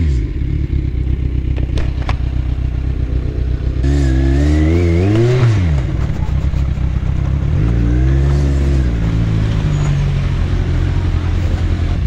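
A motorcycle engine revs repeatedly as the throttle is opened, the pitch sweeping up and falling back in two clear surges over a steady idle, loud and close, with some traffic noise around.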